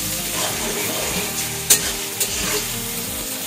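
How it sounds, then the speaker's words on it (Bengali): Ginger-garlic paste sizzles and fries in a hot pan, a continuous close crackle broken by a couple of sharp scrapes and knocks from a spoon stirring it. "এখন এক চামচ আদা রসুনের পেস্ট দিয়ে দিলাম, দিয়ে ভালো করে নাড়াচাড়া করবেন।"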